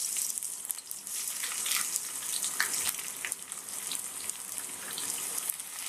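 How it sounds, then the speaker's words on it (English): Sliced onions fry in oil with a steady, soft hissing sizzle and scattered small pops and crackles, continuous and close, with no talk. "We'll fry them till they are golden brown."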